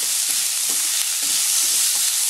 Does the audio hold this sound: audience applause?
no